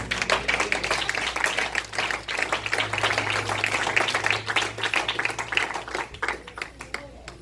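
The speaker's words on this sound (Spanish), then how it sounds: "¿Le puedo dar un aplauso a Cristo?" Church congregation claps together during a sermon, a sustained burst of many hands with an irregular patter lasting several seconds, moderately loud over a low background hum.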